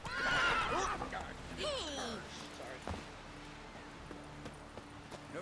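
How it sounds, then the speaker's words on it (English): In The Witcher 3, a horse lets out a loud whinny, then a second neigh follows, before fainter hoofbeats and scattered thuds carry on quietly beneath the game's background. "Horses."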